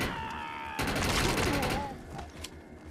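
Rapid assault rifle fire in the video game Defiance, a loud sustained burst of shots in the middle of the stretch with scattered shots after it, and game sounds and a voice around it.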